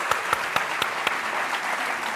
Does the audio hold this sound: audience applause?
yes